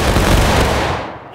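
Gunfire erupts at close range in a loud, continuous rattling burst that fills the moment, then quickly fades away.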